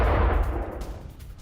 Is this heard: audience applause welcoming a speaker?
no